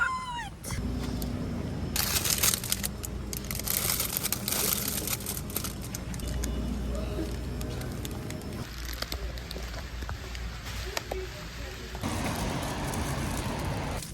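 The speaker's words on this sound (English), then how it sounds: "It is really, really rainy right now." Steady rain falling outdoors, a soft broadband patter broken by handling noises and rustling close by, with the texture shifting between quieter and fuller stretches.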